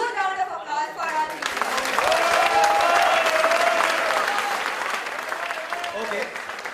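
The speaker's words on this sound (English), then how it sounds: "please give a huge round of applause" Applause from an audience at a live event: a large crowd breaks into loud sustained clapping that swells and holds, while a faint whistle or vocal tone sounds over it before it tapers off.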